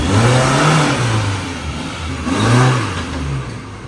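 A Mahindra Scorpio engine revs hard as the SUV climbs out of mud, rising and falling twice in loud, close surges with no talk over it.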